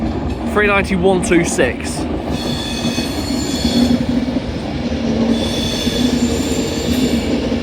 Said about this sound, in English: Arriving in now on platform number 4 is your delayed 1502 Avanti West Coast service from London Euston to Edinburgh Waverley